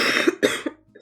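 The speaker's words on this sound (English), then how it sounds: "I ended up developing a cough." Two quick, close coughs from a person, loud and dry, followed by a faint brief throat sound.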